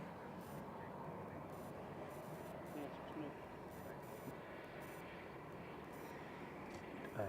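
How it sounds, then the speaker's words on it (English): An Aer Lingus ATR 72-600 turboprop arriving from Dublin at Manchester Airport gives a steady, broad engine roar that holds at an even loudness throughout, with no clear rise or fall as it passes. "Erlinger's coming in from Dublin here, ATR 72600 EIHNA"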